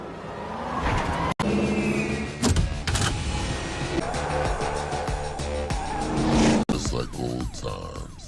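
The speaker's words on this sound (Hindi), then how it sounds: "फुल ऑन अफरा तफरी वाली रेस करता है।" Race cars in a movie street race in Brazil roar and skid with squealing tires and revving engines, dense and loud throughout, with sharp screeches and brief cut-offs between shots.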